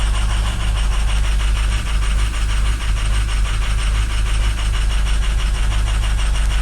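A car engine idling rough right after a cold start, with one fuel injector sticking, gives a steady, loud, continuous low rumble with a slightly uneven pulse throughout. No voices are heard.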